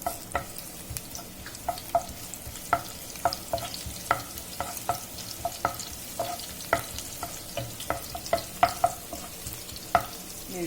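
Chopped garlic and green chilli frying in hot oil for a spicy Veg Manchurian, a gentle sizzle under regular, rhythmic scraping taps of a spoon stirring the pan.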